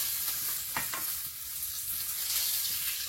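Koi fish frying in hot oil until reddish brown gives a loud, steady, hissing sizzle that continues throughout, with a couple of brief spatters near the start. No one speaks.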